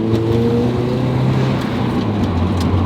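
A racecar engine running steadily up close, a loud, even low drone with smooth harmonic hum and no revving, heard alone.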